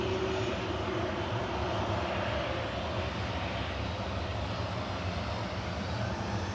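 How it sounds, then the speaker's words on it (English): A passenger jet departing Manchester Airport for Tenerife South, a steady, fairly distant engine roar holding even and unbroken, with no talk. "RUKN departing now to Tenerife South with flight 1249"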